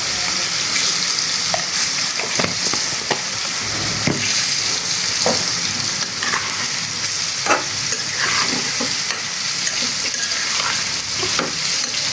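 Radish and fish frying in a pan, a loud continuous sizzle and crackle with regular scraping stirs throughout, close and without talk.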